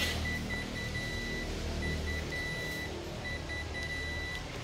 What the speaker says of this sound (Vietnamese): gắm nó cứ lên điện đó, nó kêu tít tít tít tít vậy á.